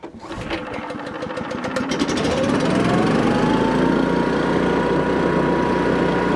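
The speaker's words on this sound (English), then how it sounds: "Then this umount blower, all we gotta do is turn the bad boy on." A hydraulic multi-force machine with a mounted leaf blower starts and runs during fall shrub cleanup, its engine rattle climbing into a loud, steady roar with a rising whine that holds close by and uninterrupted.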